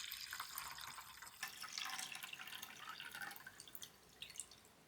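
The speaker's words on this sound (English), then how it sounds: "I return the dashi to the pot." Dashi stock is poured from a container back into a pot, a faint, close, continuous liquid trickle and splash with small drips, and no one talking.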